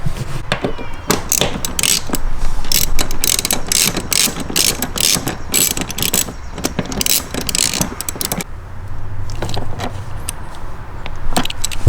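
Rapid ratchet clicks in repeated bursts as a T50 Torx bolt is tightened on a BMW M3 seatbelt mount, close and crisp with short pauses between strokes.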